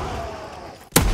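A single sharp sniper rifle shot from the World War II shooter game Call of Duty WWII, striking loud and sudden near the end after a quieter ambient stretch.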